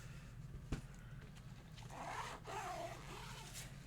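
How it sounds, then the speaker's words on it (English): Zipper on an extra large plastic binder pulled slowly around its edge, a soft close scraping rasp with a small click near the start, quiet and alone. "Let's check the zipper."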